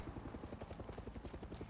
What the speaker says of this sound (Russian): Плохо, что у нас здесь вертолеты летают.